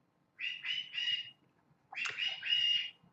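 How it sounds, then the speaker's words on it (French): A bird squawking in two close, fairly faint bursts of rasping, repeated calls separated by a short silence. "c'est dur d'engueuler un oiseau"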